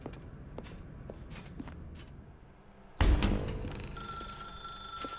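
A telephone in the video game The Stanley Parable starts ringing loud and close after a few faint footsteps and soft thumps, its bright electronic ring holding steady to the end.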